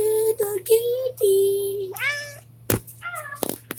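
A house cat meows several times in close succession, drawn-out and wavering, with a sharp knock partway through and a steady low hum beneath.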